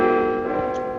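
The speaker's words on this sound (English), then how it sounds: "The bells! The bells!" Church bells ringing in the film Dead Men Walk, a loud, sustained resonant peal with rich overlapping tones that slowly decays across the second.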